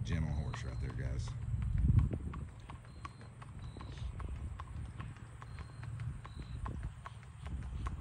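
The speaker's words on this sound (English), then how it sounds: "gentle, easy going, nice Missouri Fox Trotter gelding. Go ahead and ride past us there, Cutter." A 10-year-old, 15-hand Missouri Fox Trotter gelding walking past under a rider, with steady rhythmic clip-clop hoofbeats moving by while someone talks over them outdoors.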